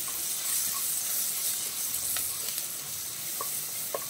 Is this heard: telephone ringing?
no